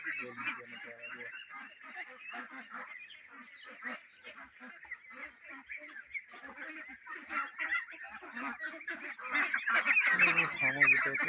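A flock of ducks on a duck farm in Assam honks and quacks continuously, with many overlapping calls that grow louder and denser toward the end.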